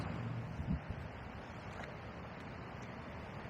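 Low rumbling wind buffeting a DJI Osmo Action camera microphone during a wind noise setting test, a steady muffled rush with a couple of brief thumps near the start and no talking.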